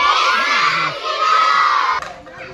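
A village crowd gathered to watch a magician's show shouts and cheers: a dense, continuous roar of excited voices, many of them children, loud and close with no pauses.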